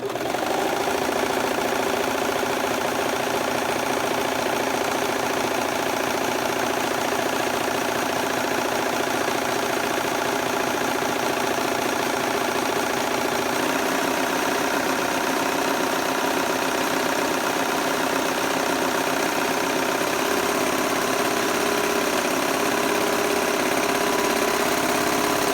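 A Brother serger (1634D/1034D model) sews a rolled hem, its motor running in a continuous, fast, steady mechanical whir with rapid stitching clatter, close and loud throughout without pause.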